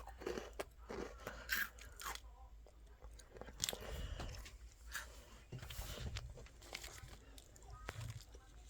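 Vinz chocolate biscuits being bitten and chewed close to the mic, with crisp crunches and repeated soft chewing, quiet and intimate, with faint murmurs between bites.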